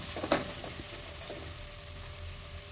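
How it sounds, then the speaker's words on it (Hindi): Onions sizzle softly as they brown in a frying pan, with a spoon scraping once near the start and then a low, steady frying hiss. "तो इसको लगातार हम स्टर करते रहेंगे ताकि हमारे प्याज जो है वो जले ना।"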